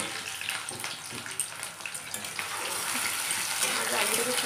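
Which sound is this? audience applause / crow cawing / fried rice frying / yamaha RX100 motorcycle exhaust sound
fried rice frying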